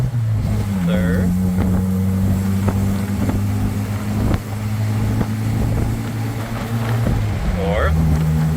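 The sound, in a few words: 1995 Jeep Wrangler engine accelerating while shifting gears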